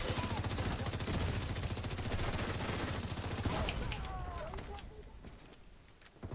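Sustained enemy gunfire in The Division 2, dense rapid automatic bursts hammering almost nonstop before easing off near the end, with talking mixed in.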